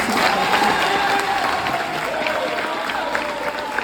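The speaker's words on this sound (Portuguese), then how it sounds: "Faz uma salva de palmas aí." An audience of more than two hundred teenagers gives a round of applause, a dense, sustained roar of clapping mixed with crowd noise and a few cheers.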